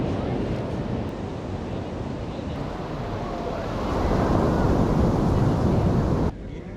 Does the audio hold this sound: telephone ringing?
no